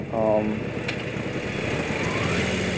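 A Sur-Ron SE120R motorcycle engine hums steadily at mid pitch while riding, with wind noise and a brief rise in revs near the start.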